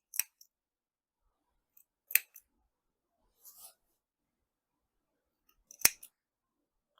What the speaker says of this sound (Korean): 가위집을 좀 주면 좋아요